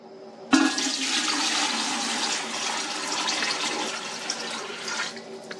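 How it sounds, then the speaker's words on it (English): Water poured and splashing into the upper chamber of a Berkey gravity water filter, a steady close rushing gush that starts abruptly and runs for several seconds, alone without talk. "So you fill it up with water."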